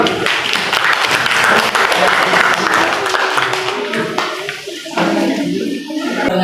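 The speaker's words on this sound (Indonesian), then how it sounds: "kasih aplaus untuk kelompok 2" Classroom applause for a student group, a dense, loud burst of many hands clapping together that carries on steadily for several seconds before thinning slightly and swelling again.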